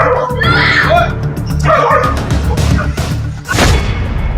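Stray dogs bark and yelp in rapid, overlapping bursts, close and loud, with a whimpering yip near the end and a busy street-like background.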